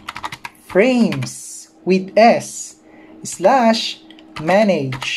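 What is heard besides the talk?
typing on a computer keyboard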